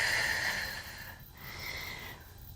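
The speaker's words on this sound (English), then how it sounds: "Exhale fully." A person breathes out fully during a calisthenics mobility exercise, a soft, faint airy exhale followed by a quieter second breath.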